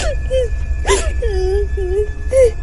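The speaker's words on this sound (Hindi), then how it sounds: "तभी जंगल में किसी की रोने की आवाज आने लगती है।" A cartoon witch cries somewhere in a jungle, a voiced wailing sob in several rising and falling moans with short breathy gasps between them, close and clear.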